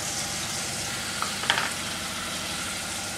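Maggi noodles roast briefly in a pan over medium heat, a soft, even sizzle throughout with a couple of faint clinks midway; no voices.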